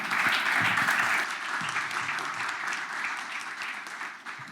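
An audience gives a round of applause for the speakers at the end of a panel discussion, steady dense clapping that stays strong and then tapers slightly toward the end.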